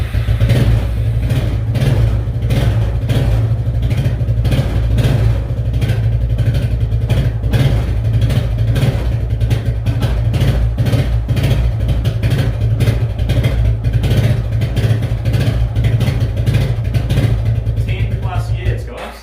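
A long-neglected Suzuki ATV barn find, running again after more than ten years, chugs loudly and continuously at a rough idle with a low throbbing drone and mechanical clatter, while a person talks over it.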